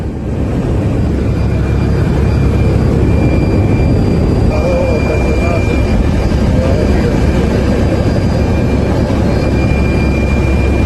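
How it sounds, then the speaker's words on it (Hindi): Helicopters flying over collapsed buildings and rubble after a disaster, a steady loud rotor and engine drone filling the whole stretch with a constant low rumble and faint whine. "हेलीकॉप्टर्स भी चारों तरफ दौड़ रहे हैं कि जो लोग फंसे हुए हैं उनका रेस्क्यू किया जा सके।"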